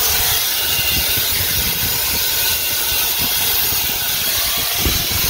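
Air hissing steadily from a leaking valve stem on an RV tire, a loud continuous broadband hiss held close and unbroken throughout, with faint low rumbling beneath it.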